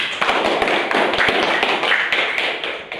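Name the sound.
classroom children clapping for group 1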